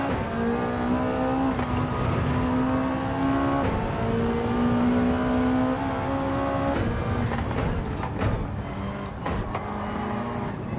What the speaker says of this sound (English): What's that, a Ferrari?